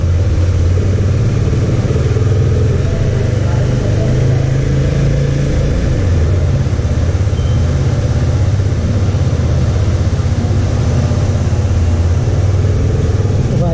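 A Husqvarna Svartpilen 250 motorcycle engine runs steadily while riding, a loud continuous low drone mixed with wind rush, with no clear shifts or pauses.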